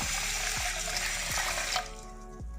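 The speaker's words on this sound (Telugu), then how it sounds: "బియ్యం మునిగేంత వరకు నీళ్ళు పోసుకోవాలి." Water pours over a glass of basmati rice in a bowl, a steady close splashing rush that thins out toward the end, with no talking.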